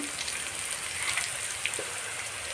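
Onions and ginger-garlic paste fry in a pan, giving a soft, even crackling hiss with faint scattered pops, fairly quiet and steady throughout.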